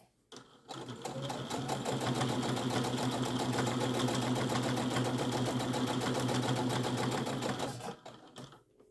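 A sewing machine runs in one steady, close burst of about seven seconds, stitching elastic back and forth on a homemade tablet case, with no talking over it.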